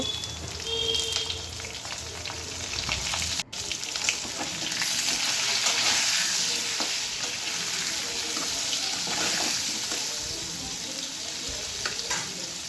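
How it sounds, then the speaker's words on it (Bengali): Potatoes frying in a little oil with salt and turmeric, after a tempering of cumin and bay leaf, give a steady broadband sizzle with scraping stir sounds throughout, close and moderately loud, with no talking. "আলুটা দিয়ে নুন হলুদ দিয়ে খুব ভালো করে ভেজে নেব"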